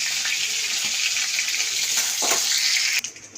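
Tengra fish fry lightly in oil with a steady, loud sizzling hiss that holds evenly, then drops away abruptly near the end.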